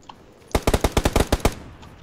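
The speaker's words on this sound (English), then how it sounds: "There's silent shots coming from over here." Rapid burst of roughly nine gunshots in the video game PUBG, loud and close, firing in a quick, even rhythm for about a second before stopping.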